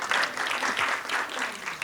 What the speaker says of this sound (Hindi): उसके लिए तो डबल ताली बजाइए